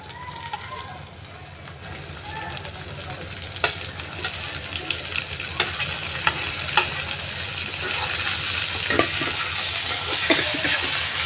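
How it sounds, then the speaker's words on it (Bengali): Chopped tomatoes sizzle in hot oil in a pan with fried onion and green chillies for a fish bhuna. A steady crackling hiss runs throughout, with scraping spatula stirs and a voice talking over it. "টমেটোটা একটু তেলের মধ্যে ভাজা ভাজা করে নিচ্ছি।"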